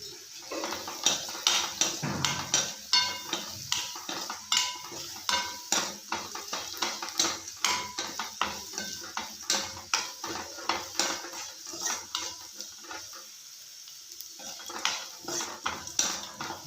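A spoon stirs rice with turmeric in a metal pan while cooking chitranna, giving repeated scraping clinks and taps in an uneven rhythm, close and moderately loud, with a soft sizzle behind and no talk.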